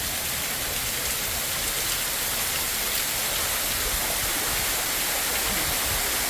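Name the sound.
rain falling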